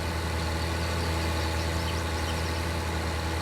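Tractor engine in Farming Simulator 19 running steadily on a bumpy road, a continuous low rumbling drone with broadband noise, moderately loud and unchanging throughout with no talk.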